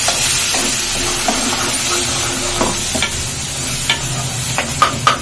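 Ginger garlic paste sizzles in hot oil, a constant close frying hiss broken by short scraping and tapping stirs toward the end, with no speech.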